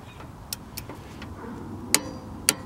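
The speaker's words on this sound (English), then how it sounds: "So now I got my torque wrench set to 62 foot-pounds." Torque wrench set to 62 foot-pounds tightening caliper bracket bolts during a brake job, two sharp clicks late on after a few lighter taps over a low background hum.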